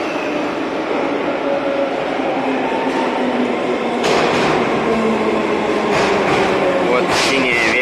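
A Saint Petersburg metro train roars steadily from inside the carriage, with a loud continuous rumble, rail noise and occasional squeals and hisses, while people talk faintly in the background.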